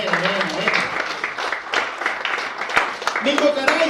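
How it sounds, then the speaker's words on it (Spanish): A church congregation applauds during a sermon, scattered clapping mixed with voices calling out and talking over it. "Den un aplauso a Jesucristo, amado hermano."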